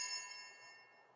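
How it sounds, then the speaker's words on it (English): A struck metal triangle rings out with a bright, sustained tone that slowly fades, alone and close. "When you hit the triangle, the metal vibrates and pushes the air around it back and forth."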